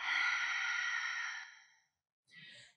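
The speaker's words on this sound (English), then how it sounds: "So breathe in and breathe out." A person breathes out slowly and steadily during a Pilates breathing exercise, a long, close airy exhale that fades into silence before a short breath begins.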